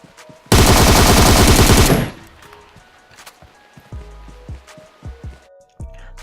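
Loud, dense automatic gunfire from PUBG Mobile erupts in a continuous burst of about a second and a half, followed by scattered fainter thuds and a few short distant shots.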